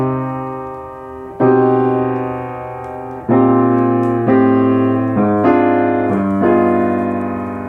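A jazz line cliché, played as sustained chords over a stepwise descending bass line, each change struck cleanly and left to ring, loud and close with no talking.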